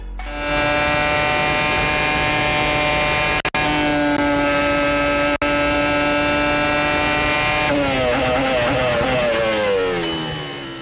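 A Formula 1 car's onboard engine note at Suzuka during the Japanese Grand Prix: a loud, steady high-revving whine held through gear changes, with two brief cuts on upshifts and a falling, shifting pitch near the end as the car brakes and downshifts.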